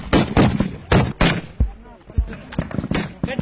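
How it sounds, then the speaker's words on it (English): Bursts of heavy machine gun fire from a dushka at a front line against ISIS positions, several loud, sharp salvos in quick succession with short gaps between them. "These guys are also using heavy machine gun dushkas and RPGs against ISIS positions"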